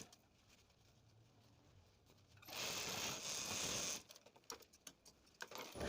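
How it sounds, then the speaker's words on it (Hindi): Sewing machine stitching a folded suit fabric, a loud, steady burst of machine running for about a second and a half, preceded by quiet handling and followed by soft clicks and taps. "फोल्ड करके हम थोड़ा सा हट के इसमें भी सिलाई लगाएंगे"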